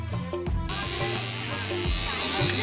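Electric tattoo machine buzzing as a tattoo is worked onto a person's hand at a crowded fair, a steady high whine starting after a moment of crowd noise and continuing under background chatter and music.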